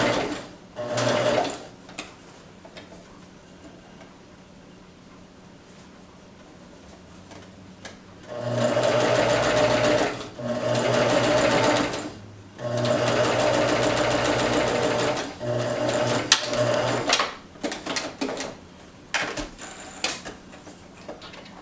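A sewing machine stitching a fabric face mask runs in several bursts of rapid mechanical whirring, with longer runs in the middle separated by short pauses and quieter handling between stitches.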